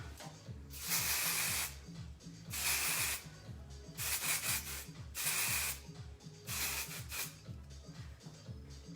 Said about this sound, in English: this is a vegetable texture spray